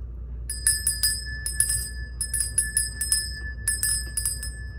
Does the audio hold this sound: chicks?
no